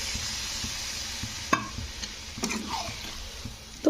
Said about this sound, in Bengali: তো আলুটাকে দিয়ে একটু সামান্য একটুক্ষণ কষতে হবে